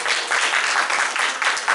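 A church congregation claps for a birthday, a dense, steady burst of many hands applauding together throughout, fairly loud and with no talking over it.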